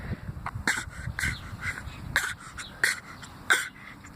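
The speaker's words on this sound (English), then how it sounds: "It's this fake cough laugh thing that we've been doing for probably almost a week" A baby makes a repeated fake cough-laugh, short raspy throaty bursts coming every half second or so, close and fairly loud against a quiet room.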